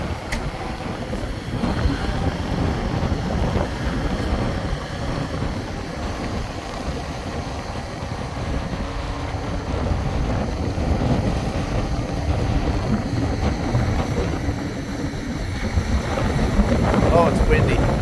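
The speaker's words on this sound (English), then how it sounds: "Oh, it's windy." Gusty wind buffets the microphone outdoors near a boat hitch, a steady low rumbling roar lasting throughout and swelling slightly toward the end.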